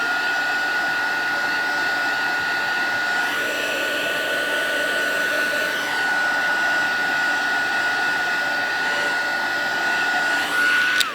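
A hair dryer runs steadily and close by to dry Stampin' Blends alcohol ink on a vellum craft background, a constant loud whir with a high tonal whine that shifts slightly in pitch as it moves.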